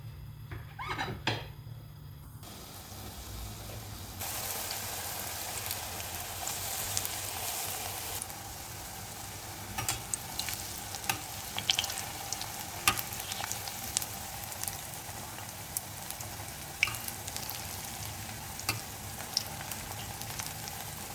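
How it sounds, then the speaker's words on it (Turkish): Falafel sizzles and crackles steadily in hot oil, with occasional clinks of utensils and pan sounds; a continuous, moderately quiet frying hiss throughout. "Şimdi kızartmaya geçiyoruz."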